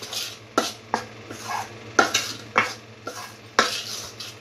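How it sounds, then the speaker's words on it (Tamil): Rice flour is stirred into hot jaggery syrup for adhirasam, a spoon scraping against the pan in repeated strokes about every half second, close and moderately loud, with a low steady hum beneath. "மாவில் போட்டுட்டா இந்த மாவு அள்ளு கொஞ்சம் கொஞ்சமாக போட்டு கிண்டிக்கிட்டே இருக்கணும்."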